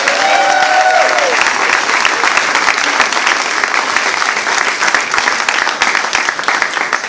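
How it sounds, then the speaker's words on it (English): Loud, sustained applause from a crowd at a Democratic political rally in Riverdale, dense clapping filling the whole stretch with a few cheers near the start. "Let's give him a round of applause"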